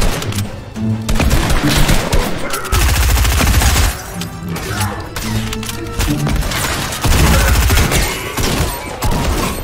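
Loud, dense gunfire fills a Fortnite match, with rapid bursts and repeated heavy shots from weapons including a mythic charge shotgun. The barrage rolls almost continuously, with only brief dips.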